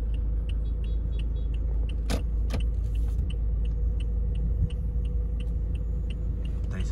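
A car rolls into a crowded parking area, its low engine rumble constant and close, with a few brief clicks and jangles on top and no speech.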